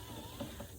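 An Axial SCX6 RC crawler starts to drive, its gears and drivetrain giving a short steady ratcheting mechanical whir, close and fairly quiet.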